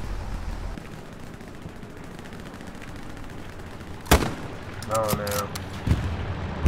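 Gunfire in the World War II shooter Hell Let Loose: distant crackling shots through most of the clip, then a sharp nearby shot and a few more blasts, with a voice reacting briefly.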